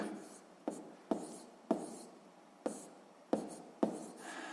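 A pen writes out a fraction calculation on paper, scratching softly with a series of sharp taps as each stroke begins, close and quiet in a still room.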